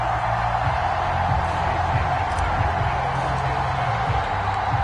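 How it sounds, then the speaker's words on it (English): The home crowd roars in a PS4 American football video game after a touchdown, a steady, dense wall of cheering noise with no pauses and no clear commentary over it. "And the home crowd loves it."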